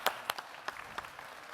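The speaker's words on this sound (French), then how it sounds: "on peut encore les applaudir" Conference audience at a retail business event applauding, a spread of separate claps and bursts over a steady hall murmur, fairly faint and distant, with no speech.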